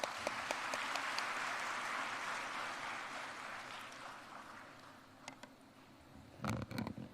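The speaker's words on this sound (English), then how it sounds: "A huge round of applause for that." An audience at a PES University inauguration claps in a quiet, distant wash that slowly dies away, with a few scattered claps and a brief bump of noise near the end.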